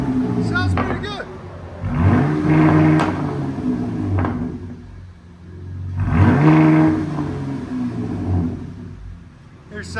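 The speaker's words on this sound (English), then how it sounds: "Jeep Grand Cherokee with big boys exhaust." A 2018 Jeep Grand Cherokee 3.6L V6 with Big Boz resonators, mids and rear delete and a 5-inch tip is revved twice, each blip rising into a loud, close exhaust roar and then falling back to a rumbling idle.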